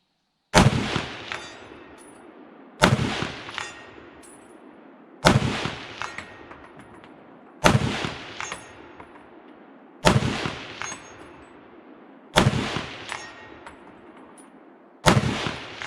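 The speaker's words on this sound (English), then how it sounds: "let's try 200 yards with the M1 Garand" Seven M1 Garand rifle shots fired at a 200-yard target, each a sharp loud crack with a ringing decay, spaced evenly about every two and a half seconds with no talk between.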